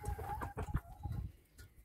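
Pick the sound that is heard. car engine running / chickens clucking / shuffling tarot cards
chickens clucking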